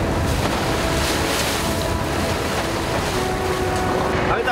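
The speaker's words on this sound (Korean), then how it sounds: "오늘도 어째 파도가 심상치 않습니다." Rough sea waves surging around a small fishing boat, a constant loud wash of water and wind buffeting the microphone, with a faint hum running underneath.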